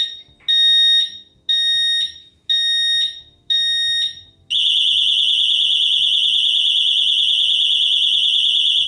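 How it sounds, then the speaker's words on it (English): A Xena disc lock fitted to a Ducati Panigale V4 brake disc sounds five shrill beeps, then breaks into a continuous piercing alarm tone that holds loud and steady, with no voices. "if anyone moves the bike without unlocking it, it lets off this piercing alarm"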